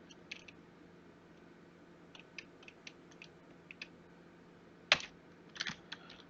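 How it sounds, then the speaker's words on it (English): A computer keyboard is typed on in quiet, scattered bursts of light clicks, with a firmer cluster of keystrokes toward the end. The room is otherwise hushed. "Now you type a string in."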